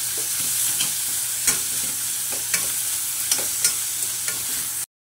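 Washed fenugreek leaves stirred in a hot pan while roasting, with a steady sizzle running underneath and a series of sharp scraping clicks from the spoon at irregular intervals, close and fairly loud, ending abruptly.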